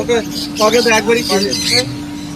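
Caged birds at the Sunday-morning Serampore bird market in Bengal squawking and chirping close by in quick, harsh bursts over a steady background hum.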